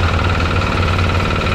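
Motor of a cement mixing machine, turned by a handle, running steadily at close range with a low, continuous hum and rumble and no speech.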